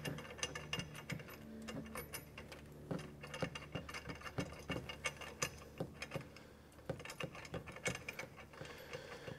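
Anti-rattle bolt being tightened on a Curt four-bike hitch rack, fitted to a 2015 Ford Explorer: a steady run of close metallic ratchet clicks with uneven bursts, no talking.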